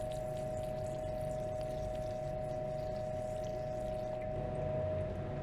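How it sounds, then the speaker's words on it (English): Distilled water poured to rinse out a container, a steady, continuous liquid rush with a faint hum, moderately close, ending slightly abruptly. "I'm going to add some distilled water now to rinse out"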